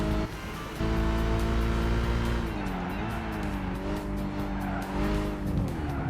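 Race car engine in Gran Turismo 5 holds a loud, steady high-revving drone with pitch rising and dipping through gear changes and corners, tire squeal layered over it, continuous and close throughout.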